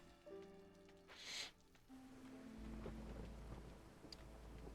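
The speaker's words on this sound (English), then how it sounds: "Got a little storm going on already." Storm in the Against the Storm video game, with a rumble of thunder and steady rain hissing over faint game music and tones, no talking.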